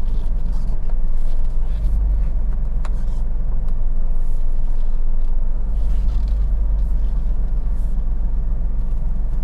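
A car being driven on the road: a steady low engine and road rumble from inside the cabin, continuous and fairly loud, with faint rattles and no talking.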